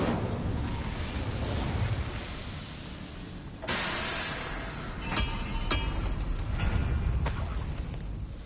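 An Incendio fire spell cast in the Hogwarts Legacy video game, a loud whooshing burst of flame followed by crackling bursts and sharp pops over a continuous rumbling game soundscape.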